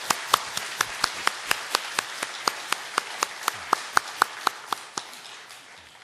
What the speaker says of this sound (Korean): 박수 한번 격려해 주세요.